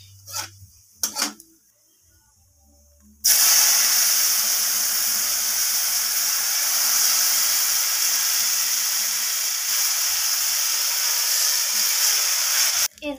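Spinach dalna pours into a hot spice tempering with panch phoron and a bay leaf, bursting into a loud, steady sizzle that holds for about ten seconds after a few quiet clinks, then cuts off.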